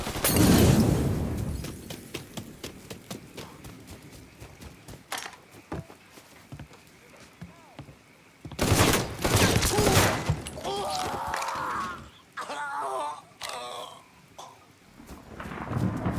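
Gunfire in the video game Mafia III, heavy, booming bursts clustered in loud volleys separated by quieter stretches, with rain-like noise and shouted voices mixed in.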